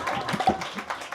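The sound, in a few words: audience applause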